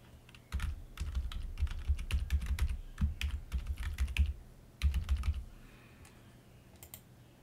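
An email address is tapped out on a computer keyboard in close, crisp keystrokes, with dense runs of clicks broken by brief pauses.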